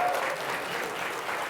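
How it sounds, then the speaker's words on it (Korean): A standing lecture audience applauds to welcome a speaker at a forum, giving a brief, even burst of many hands clapping together. "같이 또 기립해서 환영의 박수 한번 부탁해 주십니다"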